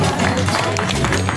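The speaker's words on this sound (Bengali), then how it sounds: "পাপানকে জোরে হাততালি" A crowd at a Poila Boishakh gathering in a Barati family home breaks into loud, close applause, with dense clapping and some murmuring voices mixed in.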